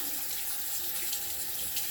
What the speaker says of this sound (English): let me go ahead and open my water here. Get the water a little warm.